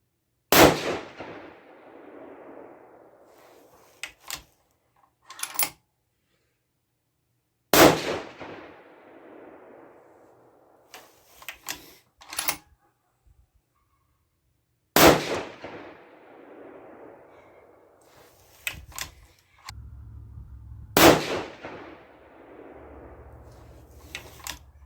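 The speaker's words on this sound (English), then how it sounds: "We're just going to go ahead and shoot these last 5 here." Five loud rifle shots from a 6.5 PRC Bergara B-14 firing Barnes 140 Match Burner rounds, spaced several seconds apart, each a sharp crack with a decaying outdoor echo and small clicks of bolt handling between shots.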